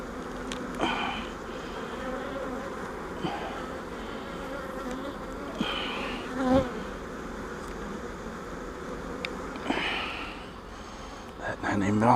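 Honey bees buzz in a dense, steady drone around an open beehive during an inspection, close and continuous, with a few soft sniffs and rustles on top and no clear talk.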